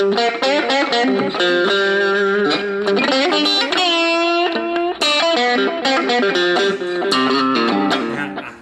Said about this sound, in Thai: ตัวนี้จะเป็นโหมดโอเวอร์ไดนะจะเป็นเสียงแตกอ่อน